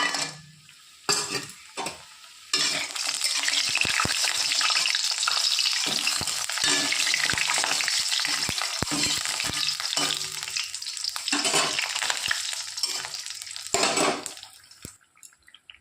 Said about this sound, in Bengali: তেল ভালো মতো গরম হয়ে গেছে এবার দিয়ে দেবো বড়ি